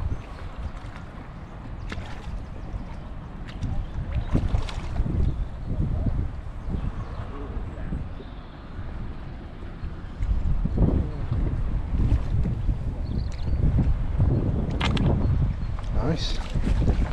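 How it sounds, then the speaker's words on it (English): Gusty wind buffets the microphone beside a lake at Harry's Fishery during a morning feeder-fishing session, rumbling in low bursts that grow stronger midway, with faint speech under it. "It's getting a bit windy."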